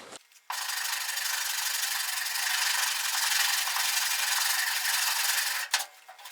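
A sanding block scrubs Bondo filler on a car body with coarse 40-grit paper, a loud continuous rasping stroke lasting several seconds, bracketed by brief quieter scrapes at the start and end.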